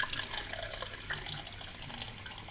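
Beer pours slowly into a glass as a soft, trickling liquid stream with gentle fizzing, quiet and steady throughout.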